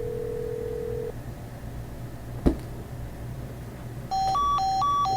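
Keypad tones sound in a Nancy Drew mystery game, Secret of the Scarlet Hand: a steady tone cuts off, a click follows, then a quick run of stepped beeping dial tones plays clearly over faint hiss.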